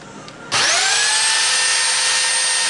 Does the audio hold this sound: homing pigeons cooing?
no